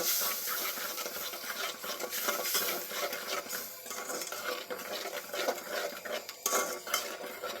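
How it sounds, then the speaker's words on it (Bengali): A spice paste with chilli, turmeric and coriander powder is stir-fried in a pan, with a continuous scraping of a utensil against metal, light clinks and a soft sizzle underneath, close and moderately quiet, with no talking. "হলুদের গুঁড়া আর দিচ্ছি ধনিয়ার গুঁড়া মশলাটাকে আমি ভালো করে কষিয়ে নেব"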